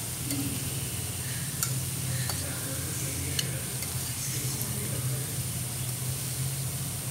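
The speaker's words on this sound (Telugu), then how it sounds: "ఆ తర్వాత ఈ పీసులను కూడా వేసి ఈవెన్ కలుపుకుందాం." Cauliflower pieces for gobi manchurian being stirred as they fry in a pan, a steady close sizzle with scraping stir strokes running throughout, no talk.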